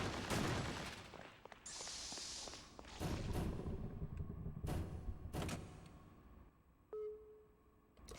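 Gunshots aimed at a crate in the PS2 game Extermination, sharp reports landing amid other game effects such as clanks and mechanical noises, with no talking.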